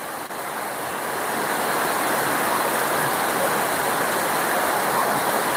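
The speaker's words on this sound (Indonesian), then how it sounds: "Ini air pancuran dari atap." Heavy water pours and splashes continuously, a dense steady rush like rain spilling hard from a roof spout, loud and close.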